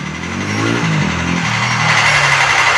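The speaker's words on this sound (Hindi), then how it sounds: "ये जनरेटर की आवाज़ है" A loud, continuous diesel generator drone with a steady low rumble and mechanical whine, running without pause and heard up close.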